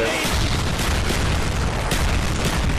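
A nuke goes off in the video game Black Ops Zombies on the Kino der Toten map, a loud continuous booming roar that fills the whole moment.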